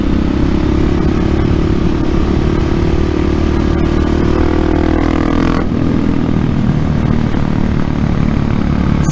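Supermoto motorcycles racing past on a track, loud, continuous engine roar close by that shifts in pitch as the bikes pass, with no talking.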